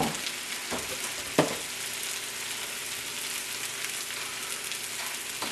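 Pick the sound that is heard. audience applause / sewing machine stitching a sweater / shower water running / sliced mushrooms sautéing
sliced mushrooms sautéing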